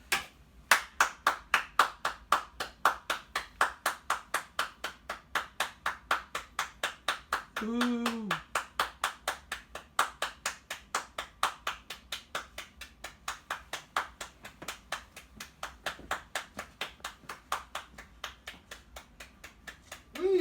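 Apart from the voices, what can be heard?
audience applause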